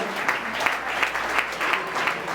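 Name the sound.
church congregation applauding and acclaiming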